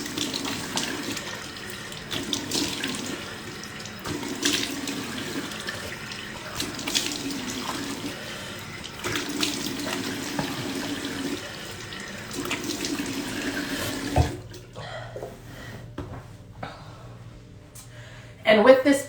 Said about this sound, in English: you're going to rinse.